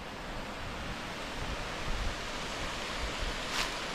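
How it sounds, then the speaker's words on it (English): Gunstock Falls spills over a ledge and cascades down toward the Caney Fork River, heard as a steady, broad rushing roar of water without a break. "there is the actual Gunstock Falls that goes over and cascades down"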